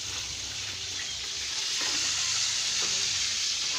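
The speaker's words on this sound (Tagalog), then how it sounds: "Prito na lang yung niluluto niya." Steady loud sizzling and crackling of laing and pancit frying in a pan, a continuous hiss with occasional pops and no voices.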